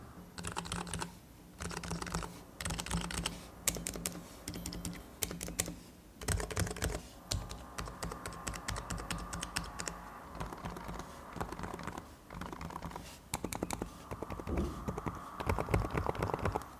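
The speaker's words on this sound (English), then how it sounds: "typing on the silicone cover doesn't feel as nice compared to typing without the silicone cover" Fast, steady typing on a NIZ L84 electro-capacitive keyboard fitted with a silicone cover, close up, with soft, even key clicks and brief pauses between bursts.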